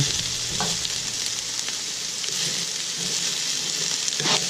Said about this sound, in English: Okay, just stir them around.